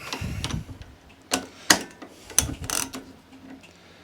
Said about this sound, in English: You've got to just lift that socket out ever so slightly, just so you can get a turn on it.